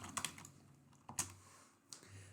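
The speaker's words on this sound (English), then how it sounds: "type in your name" Soft clicks of a computer keyboard as a name is typed, a few quick keystrokes in small bursts, quiet and close in a still room.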